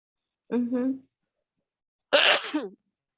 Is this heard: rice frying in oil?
no